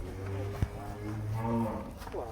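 Cow at a cattle farm mooing in long, low, drawn-out calls close by, with other farm noise in the background and no clear talk.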